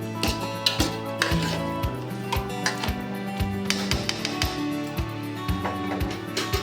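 A lid goes back onto a pan of meat cooking on the stove. The clip is full of metallic kitchen clatter, with a string of sharp clinks and taps from metal lids and utensils, irregularly spaced and close by.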